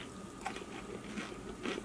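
Crunchy air-fried frozen pizza rolls are bitten and chewed close to the mic, giving several brittle crunches at irregular intervals under a light background hiss.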